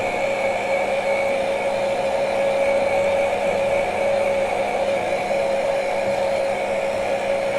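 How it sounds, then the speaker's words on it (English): A hair dryer blows steadily and close up while drying glitter paint, a continuous even whirring hiss with no pauses or voices. "So I'm going to dry this real quick."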